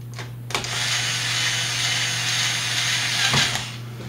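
A weak cordless drill driving screws into an IBM T60 laptop whirs steadily for a few seconds at close range, with clicks as it starts and stops, sounding strained and somewhat low-powered.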